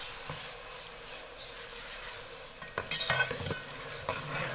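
Onions, ginger garlic paste and tomatoes sizzle in a pan while a utensil stirs them, with a steady soft frying hiss and a cluster of louder scraping stirs near the end, no talking.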